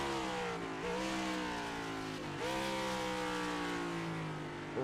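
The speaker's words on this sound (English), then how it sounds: "Really letting that car bounce the rev limiter." A race car engine at Elkhart Lake screams at high revs, bouncing repeatedly off the rev limiter, with pitch dips and recoveries as it holds near the top, loud and close.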